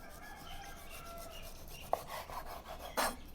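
A knife scrapes and trims sinew from a raw porterhouse steak, giving soft close rubbing strokes with a couple of sharper scrapes, faint and alone.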